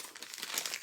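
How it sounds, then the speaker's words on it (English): A very crinkly plastic bag being opened up close, with brisk, quiet crackling and rustling bursts throughout a short moment. "I had to start a new bag, and it's very, very crinkly"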